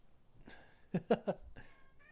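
Rocket the cat gives a few short, soft meows in a quick cluster, close by but faint, in a quiet room.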